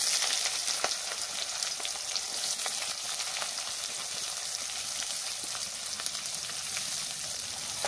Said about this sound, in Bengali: এবার ফোড়নে দিচ্ছি কালো জিরে, আর দিয়ে দিচ্ছি পেঁয়াজ কুচি